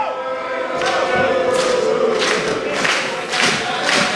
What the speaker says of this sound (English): And you hear this near sold-out crowd capacity.